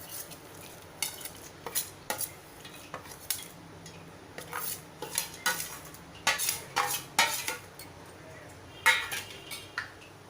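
Dry fruits and dates stirred into sheer khurma, vermicelli simmering in milk in a pan, heard as a spoon clinking and scraping against the metal pan in uneven bursts, close, over a faint low background hum.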